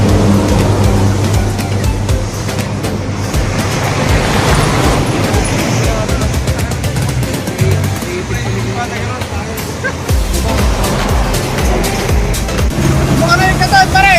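A repaired motorcycle engine running on a relief trip to Cagayan, a loud steady engine rumble throughout, with people talking over it.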